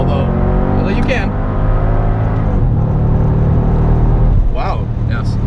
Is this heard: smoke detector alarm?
no